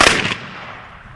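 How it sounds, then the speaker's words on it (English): Single sharp ceremonial rifle volley at a Medal of Honor heritage trail marker dedication, a loud close crack decaying over about a second, with no voices. "Ready. Aim by the right oblique. Fire!"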